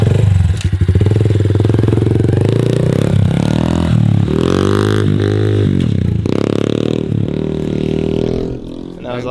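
A loud, close pit bike engine with an automatic transmission revs and wavers as it rides off, its pitch rising and falling in repeated surges, with clattering mixed in throughout.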